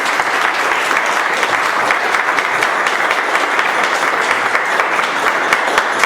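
Sustained applause from an audience at a mayoral candidates' forum, dense steady clapping filling the room at an even loudness with no voices over it.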